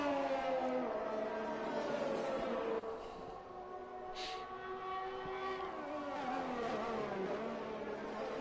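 A Formula 1 race car in the F1 2021 video game at the Austrian Grand Prix, its engine note held steady with shifting harmonic pitch as it runs a lap, continuous and loud with no talk.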